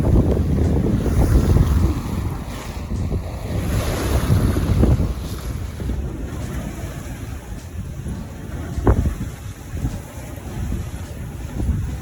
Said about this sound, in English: The sea was still very choppy as we went around the headland at Point de Barfleur